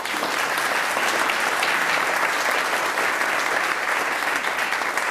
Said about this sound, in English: Let's a round of applause for them.